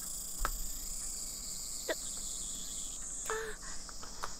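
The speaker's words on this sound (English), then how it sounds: "The only sound is the chirping of cicadas." Cicadas chirp steadily through a quiet scene, a continuous high-pitched buzzing drone held throughout at moderate level, with a few faint short clicks and a brief tonal chirp near the end.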